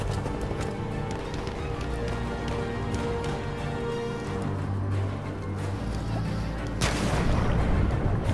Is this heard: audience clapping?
no